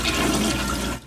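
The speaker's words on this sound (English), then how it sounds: "flushing his toilets," A household toilet flushing in a home with brown, dirty tap water, a close rushing gush of water that fills the moment and then fades.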